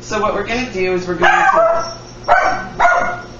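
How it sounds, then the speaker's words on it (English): A pet dog barks in several loud, sharp bursts close by, cutting in over a person who talks through most of the moment in a home kitchen. "That's my dog."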